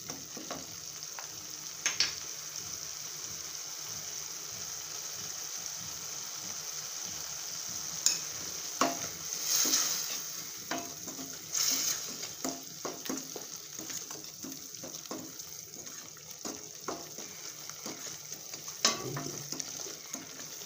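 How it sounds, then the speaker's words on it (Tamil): Onions sautéing with salt in a pan for rajma masala, a quiet steady sizzle broken by repeated light spatula scrapes and taps, with no talking. "இது கொஞ்சம் நல்லா வதங்கி வரட்டும்."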